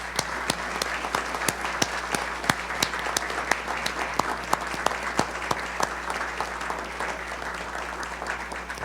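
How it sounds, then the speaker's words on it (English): An audience at a legislative meeting breaks into applause, a dense, steady clapping that holds at an even level throughout, fairly loud and with no talking over it. "Can we have a round of applause?"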